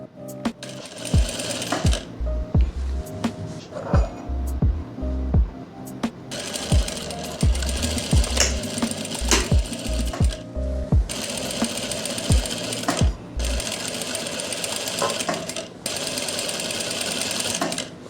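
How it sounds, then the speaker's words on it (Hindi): An electric sewing machine runs in repeated loud bursts of rapid stitching while double-stitching a kurti, with short pauses and thumps between runs and no talk. "तो गाइज़ ये मैं डबल सिलाई करने लगा हूँ।"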